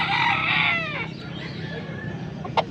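Chickens at a poultry sale in Pampanga: a rooster crows loudly and close, a long harmonic call in the first second, followed by lower clucking and farm commotion, with a sharp brief squawk near the end.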